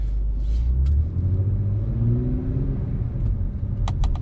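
Acura TLX Type S with a 3-liter turbo V6 and 10-speed automatic accelerating, a steady close engine drone that climbs in pitch through the gears, with a couple of brief clicks near the end and no talk.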